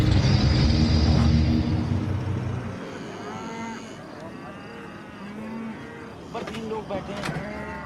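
Cows in a smuggling truck moo several times at close range, with drawn-out calls over a loud vehicle rumble that drops away partway through, followed by quieter scattered lowing.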